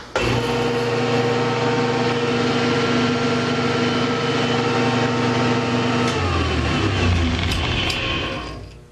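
A Delta Rockwell heavy duty metal shaper runs with a steady, loud motor hum and whine, then near the end shifts pitch and winds down as it slows.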